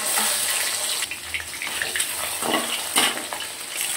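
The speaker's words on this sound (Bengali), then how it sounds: "এগুলো আমি হালকা ভেজে নেব।" Catla fish rubbed with salt and turmeric sizzle in hot mustard oil in a wok, a steady close crackling hiss with brighter spitting bursts scattered through it.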